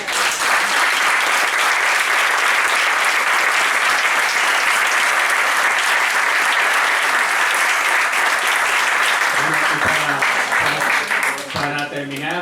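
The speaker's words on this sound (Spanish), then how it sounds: "Yo creo que nos merecemos un aplauso de todos los" Long, loud, dense applause from a conference audience at an event on the Bahía de Cádiz natural park, sustained throughout, with a voice emerging over the clapping near the end.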